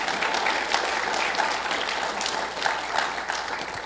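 Applause from a seminar audience, steady dense clapping throughout at moderate level with no speech over it.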